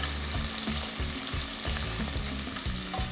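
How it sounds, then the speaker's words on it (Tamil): Two large sliced onions sizzle loudly in hot oil with whole spices for mushroom pulao, a dense continuous crackle broken by rhythmic stirring scrapes at close range. "இதில் ரெண்டு பெரிய சைஸ் வெங்காயத்தை நல்ல மெலீஸாக ஸ்லைஸ் பண்ணி ஆட் பண்ணுறேன்"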